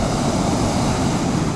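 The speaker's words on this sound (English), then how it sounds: "Yeah, these waves, look." Sea waves break on Corton beach in Suffolk as a steady, loud, broadband roar with no distinct individual crashes, close and continuous.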